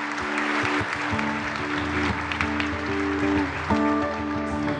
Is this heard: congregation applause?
yes